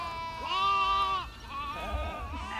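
Goats at a Gildan facility's wastewater area bleat up close, with one long, wavering cry followed by a shorter second call.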